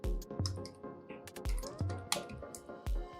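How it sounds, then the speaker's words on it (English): Keystrokes on a computer keyboard, entering a date into a spreadsheet cell: a close, irregular run of sharp clicks and clacks with small pauses between bursts, no talk. "I'll type a date"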